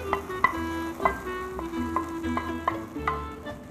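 Meat with coarse dried hot red pepper fries in a pan while a utensil scrapes and taps against the metal, a soft sizzle underneath a series of regular clinking stir strokes, close and moderately quiet.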